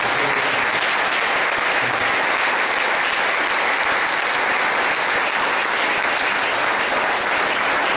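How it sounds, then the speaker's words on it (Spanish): A church congregation at a liberation and healing congress applauds their God, a dense, steady wash of many hands clapping that fills the whole stretch evenly and loudly, with no break. "Démosle un aplauso al Rey de Reyes."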